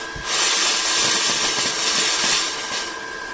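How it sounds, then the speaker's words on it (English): Air hissing out of the opened bleed valve on a GX Pump CS3 oil-free, auto-stop PCP air compressor: a steady, loud, close rush lasting about three seconds, with a faint constant tone underneath. "So you just undo the bleed valve."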